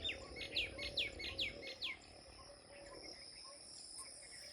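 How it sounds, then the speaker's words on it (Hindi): Birds, including crows and a koel, chirp in a quick series of bright, repeated calls in a village morning, then fade to scattered faint tweets over a steady insect hum in a quiet outdoor setting. "सुबह के टाइम बहुत ही प्यारी प्यारी आवाज़ें आती हैं यहाँ पर, चिड़ियों की, कौवों की और जो कोयल की।"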